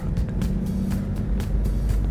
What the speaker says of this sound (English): So we're following that car